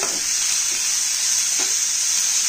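Crushed garlic fries with onion in hot oil while being stirred, giving a loud, continuous close-up sizzle with faint scraping of the spoon underneath.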